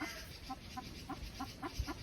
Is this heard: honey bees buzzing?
no